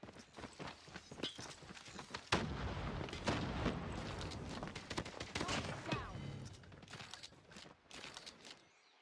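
A grenade detonates during a Call of Duty Mobile Major 2025 match: a sudden loud blast lands early, amid rapid bursts of gunfire, running footsteps and faint voices talking.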